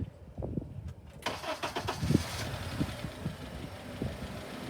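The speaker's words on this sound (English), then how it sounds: "next thing we're going to do is we're going to start the car" A Honda car's engine cranks and catches about a second in, then settles into a steady, fairly quiet running idle up close.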